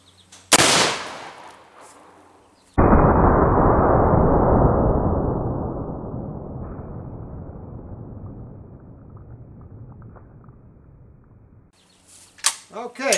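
A Mosin rifle firing a 182 grain bullet over a chronograph at milk jugs cracks once sharply up close, followed by a long loud boom that rolls away and decays over several seconds, with a few faint clicks afterward.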